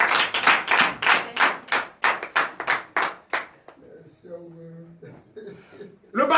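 About ten loud, evenly spaced unison hand claps from a congregation at a night deliverance and prophecy church service in Comè, Benin, followed by a pause and then a voice that begins speaking or chanting.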